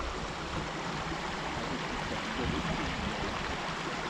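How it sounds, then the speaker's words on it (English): Phantom Creek on the Steam Donkey Loop of the Maple Valley Trail, a steady close rush of flowing stream water that fills the whole stretch with even, unbroken noise. "Go check out this creek."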